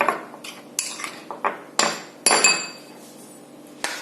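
Butter and sugar are mixed with a spoon in a bowl for cinnamon buns, producing a series of close, bright clinks and scrapes in an irregular rhythm, a couple of them sharper and ringing, with no talk.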